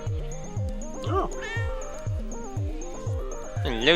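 Cat meowing in the Tokyo Dark video game, a series of short rising-falling meows repeated roughly every half second over game music, ending in a longer, louder call.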